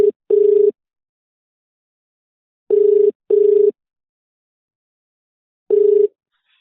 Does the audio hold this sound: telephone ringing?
yes